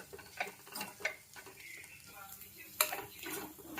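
A spoon stirs a banana flower, coconut and chilli fry in a pan, giving scattered scraping and clinking knocks against the metal, a few sharper taps standing out, with faint voice in the background.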